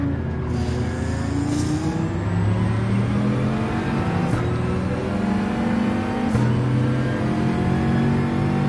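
Bugatti Veyron race car engine in Gran Turismo 7 at the Red Bull Ring, a steady loud drone with shifting pitch as it accelerates and holds speed, with no talking.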